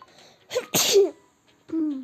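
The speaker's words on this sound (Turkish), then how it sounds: "hapşıracağım galiba dur dur." A single sharp sneeze, with a quick breathy intake beforehand and a short trailing vocal sound afterward, loud and close.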